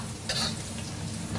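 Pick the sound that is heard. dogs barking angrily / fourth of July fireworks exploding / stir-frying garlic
stir-frying garlic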